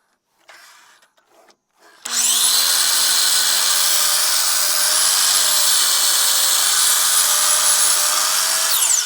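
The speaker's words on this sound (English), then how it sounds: "I've just cut this skirting on the mitre saw" Mitre saw cutting wooden stair skirting: after a few faint knocks, the saw spins up suddenly and whines loudly and steadily for about seven seconds, close by.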